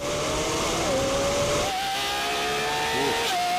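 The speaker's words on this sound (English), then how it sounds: "Lambos over a standing quarter mile." Lamborghini cars, including a Revuelto, accelerating in a standing quarter-mile drag race; loud rising and falling engine whines with gear shifts, sustained and close, heard through a stream with some talk underneath.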